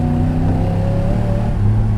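A tuned 3.5-litre Rover V8 in a Hawk car runs loud and close with a steady throbbing hum, its pitch easing down slightly as it settles from a rev.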